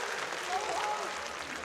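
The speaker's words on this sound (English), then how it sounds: "They'll applaud their supporters" Crowd applause at an esports match on the map Train, a dense, steady wash of clapping from a large audience that fills the hall, with a commentator's voice faintly mixed in.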